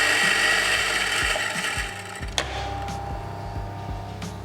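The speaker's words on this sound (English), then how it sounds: "Grinder." Coffee beans being ground in a coffee grinder for a coffee tasting, a steady mechanical whirring and grinding that runs throughout, close and fairly loud, with a few clicks and knocks along the way.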